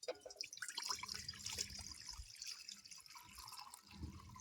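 Water runs and splashes into a wok set on a lit stove, a soft close trickle with drips and gurgles, fairly faint and without talk.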